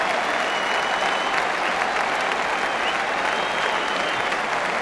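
Spectators at a Roland-Garros clay-court tennis semi-final between Nadal and Djokovic break into sustained, even applause, a dense wash of clapping that continues at full strength throughout.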